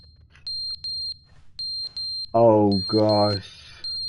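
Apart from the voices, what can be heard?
smoke alarm going off in the video game The Stanley Parable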